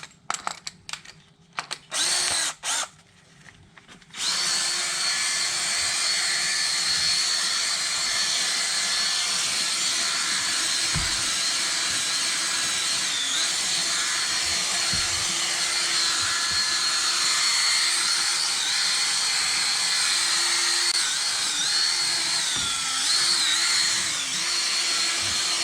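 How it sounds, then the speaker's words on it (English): A power drill spins a soft bristle brush to scrub a car interior, a steady loud whirring drone running on after a few short start-stop bursts at the beginning. "I'm using a drill and a soft bristle brush"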